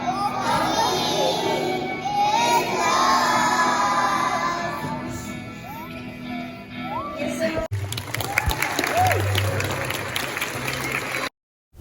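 Parents clap for children at a school graduation in the United States, a dense, steady wash of applause with crowd chatter and children's voices mixed in, continuing before breaking off abruptly near the end.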